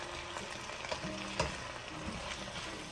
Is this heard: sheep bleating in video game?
no